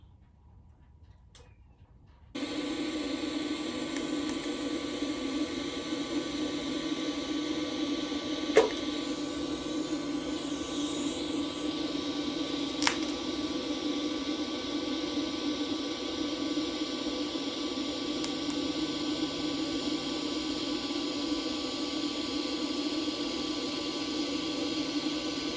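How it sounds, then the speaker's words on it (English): A muffler is welded to the end canister of a Can-Am Ryker exhaust, a steady, even welding hiss and hum that starts abruptly and runs without break, with a couple of faint ticks and no talk. "Welding this muffler to the canister on the end, which creates the tone."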